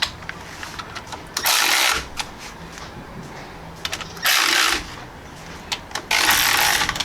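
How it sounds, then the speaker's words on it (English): A cordless ratchet run on bolts during a differential fluid change and front-end rebuild, firing three loud, rapid buzzing bursts of about half a second each, spaced a couple of seconds apart, with light clicks and handling noise between them. "I'm just gonna let the regular cordless air ratchet here bottom out."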